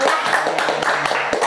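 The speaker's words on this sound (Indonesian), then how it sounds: "Tepuk tangan dulu." Audience applause at a school podcast event, a short burst of dense clapping with scattered individual claps, moderately loud and fairly close, with no talk over it.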